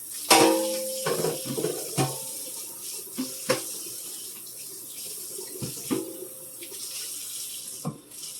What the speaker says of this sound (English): The water's going to run for a minute